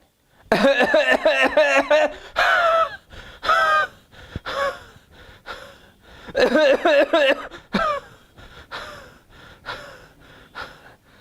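A person demonstrates a cough of the Cassia sophera type preceding asthma: harsh, gasping, wheezy coughing fits, close and loud, in several bursts separated by sharp indrawn breaths and short pauses.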